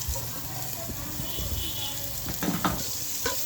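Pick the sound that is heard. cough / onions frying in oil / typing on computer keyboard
onions frying in oil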